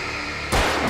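A single gunshot in the video game Alan Wake, an abrupt loud blast cutting through a quiet hum and trailing into a brief rumbling tail.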